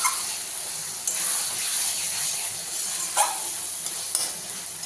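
Onions and tomatoes with eggs sautéing in a pan, a continuous hissing sizzle with a few sharp scrapes of the spatula.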